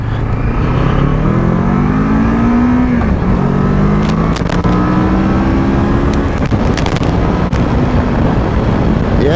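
A 2024 Kawasaki Versys 650 sport tourer accelerating hard on a highway, its engine note climbing steadily and rising through the gears, loud and continuous under heavy wind rush.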